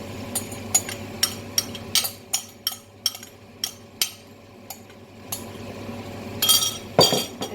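Sauce stirred into chicken in a pan, heard as a series of light clinks and taps of a utensil against the pan, spaced irregularly, then a louder scraping stir near the end.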